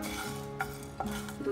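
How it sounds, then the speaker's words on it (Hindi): Whole coriander seeds and red chilies roasting in a hot dry pan, a soft steady crackle with a few light scrapes of a spoon against the metal. "2-3 सेकंड इसको भूनेंगे।"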